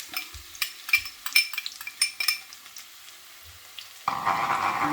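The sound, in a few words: stir frying garlic and onions in a pan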